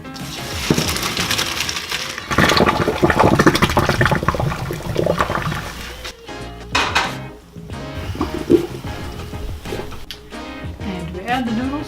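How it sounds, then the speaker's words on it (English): Boiled noodles are poured into a colander as water gushes and drains, clattering against a metal pot and sink, then tapering into splashes and clinks, with a person talking throughout. "Alright, time to drain the noodles."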